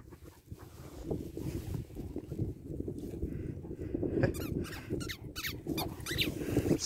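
A squeaky dog toy sounds during an outdoor walk with German Shepherds: a few faint, short squeaks that rise above steady wind rumble and background noise.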